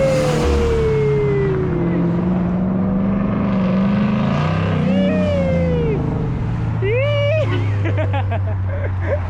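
Cars leave a car show one after another, engines revving and rising in pitch as they pass close by, while people talk nearby.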